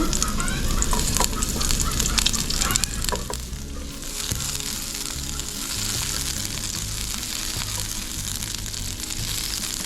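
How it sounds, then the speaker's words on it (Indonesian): Steady, loud sizzling of onions frying in about a tablespoon of hot oil, with occasional stirring clatter, continuous throughout. "Di sini kita beri sedikit minyak, kira-kira 1 sendok makan ya mam. Kita masukkan bawang bombaynya."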